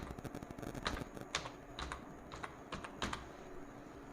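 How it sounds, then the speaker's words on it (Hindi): Keys clatter on a computer keyboard as a word is typed into Microsoft Word 2007, a quick close burst of clicks with irregular rhythm and no talking. "जैसे हमने टाइप कर दिया कंप्यूटर"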